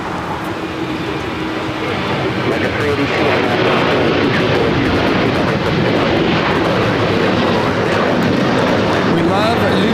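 A Lufthansa airliner roars at LAX airport, a loud, steady broadband jet rumble that builds over the first seconds and then holds near and powerful throughout.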